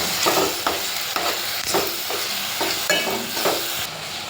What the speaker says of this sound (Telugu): ఇప్పుడు మనం దంచిపెట్టుకున్న మసాలా వేసుకొని ఒకసారి కలుపుకోవాలండి